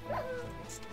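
A dog gives a short high yip in the video game Minecraft, a single brief bark over faint background game sound.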